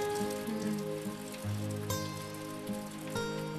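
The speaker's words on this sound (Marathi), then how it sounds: "मस्त पाऊस पडतोय ना." Rain patters steadily on a surface beneath soft, sustained musical tones, at a gentle, even volume.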